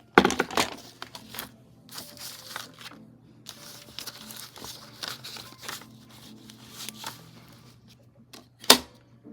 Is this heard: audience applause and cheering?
no